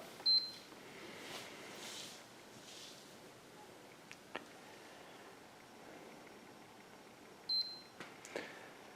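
Two short, high electronic beeps from a PlayStation 4 console power button held down sound several seconds apart over quiet room noise, with a few soft clicks and taps between them.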